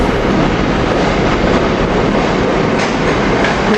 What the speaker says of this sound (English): the train 842 to Fox Chase coming in to Silverliner 5s, pulling into Suburban station here.